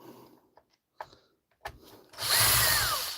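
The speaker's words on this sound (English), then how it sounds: "Who doesn't love the sound of the ratchet and the drill?" A ratchet gives a few sparse clicks and taps, then a power drill whirs up loudly and runs steadily, close by, during a DeWalt tool repair.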